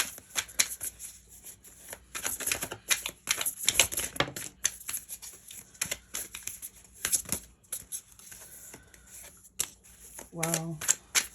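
Tarot cards being shuffled, crisp repeated riffling and flicking of the deck close up, with soft taps and a brief snap near the end under a quiet setting.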